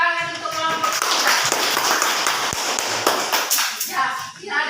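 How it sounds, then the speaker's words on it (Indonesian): Students in a classroom applaud group 3 after its presentation, with brisk, scattered clapping that carries on for several seconds while voices chatter underneath. "tepuk tangan untuk kelompok 3"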